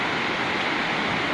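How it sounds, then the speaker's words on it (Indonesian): The Tujuh Bidadari waterfall in North Aceh gives a dense, steady rushing roar of falling water with no breaks, heard close and fairly loud. "air terjun Tujuh Bidadari"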